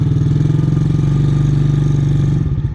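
A Mikilon Hammer 125 children's quad bike engine runs steadily with a close, even, putting drone that holds level for a few seconds. No one speaks.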